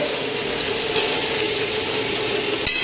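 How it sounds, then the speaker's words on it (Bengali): Raw chicken goes into a hot wok and fries with a steady close hiss, with brief scraping clatters partway through and near the end, as part of home cooking. "সবে চিকেনটা ঢেলেছি এখনো সবজি বাকি আছে"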